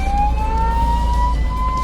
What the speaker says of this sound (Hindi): एम्बुलेंस ड्राइवर सायरन और हॉर्न बजाने लगा